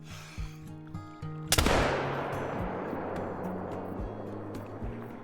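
A single muzzleloader rifle shot rings out loud and sharp in the hunting game Call of the Wild, its long echoing tail fading over a steady low hum of ambient outdoor sound.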